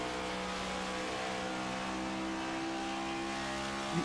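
A NextGen Cup Series stock car engine holds a steady, loud throttle drone throughout, with a sustained mechanical hum and no break in power.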